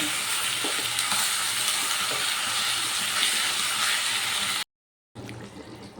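Chicken sizzles in a pan with turmeric and salt for Kasuri chicken, a loud, continuous frying hiss with stirring scrapes that cuts out briefly before resuming.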